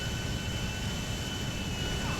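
An airplane engine in the video game GTA 5 roars steadily, a loud continuous broadband drone with a faint whine on top and no talking.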